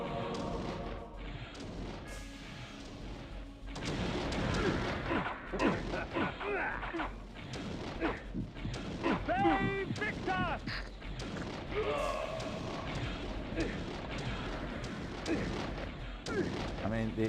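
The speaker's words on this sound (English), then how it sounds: "the explosions wouldn't be as good if they weren't jank" Explosions and combat effects from the video game Blood Omen: Legacy of Kain thud and boom repeatedly through the scene, mixed with game voices and effects, with someone talking over parts of it.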